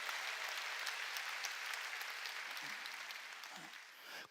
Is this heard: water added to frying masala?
no